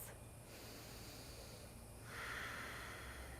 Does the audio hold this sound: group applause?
no